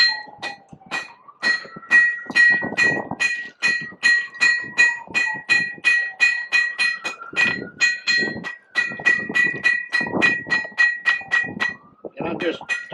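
A blacksmith hammers hot metal on an anvil to flatten and shape it, with a long run of sharp, ringing clangs in a quick, steady rhythm, close and loud, with brief pauses between bursts.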